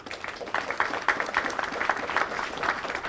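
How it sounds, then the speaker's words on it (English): Applause from a crowd at a police passing out parade in Bermuda, a steady dense patter of many hands clapping for about three seconds, moderately loud with no talk over it. "Please, a round of applause."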